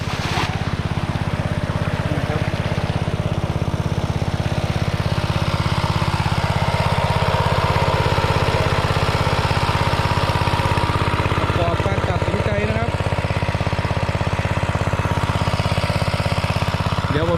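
A small petrol engine driving a 4-inch water pump runs steadily nearby, a loud continuous drone with a rhythmic chugging, holding even throughout.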